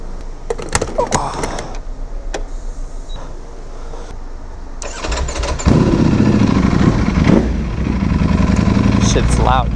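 A carbon fiber Ducati V4S motorcycle engine runs loud and close, first with sharp revving bursts, then settling into a steady heavy roar that swells partway through, with talk over it.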